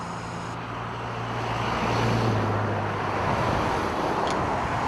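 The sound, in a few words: street traffic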